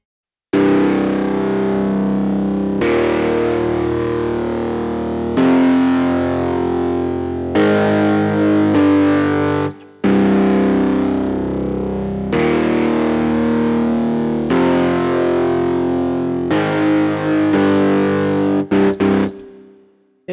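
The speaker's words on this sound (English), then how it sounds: "This is the Perfect Fifth preset as it is." A CodeFN42 Chordz Perfect Fifth preset in FL Studio plays a distorted, effects-heavy synth chord progression, with loud sustained power chords changing every few seconds and a brief stutter near the end.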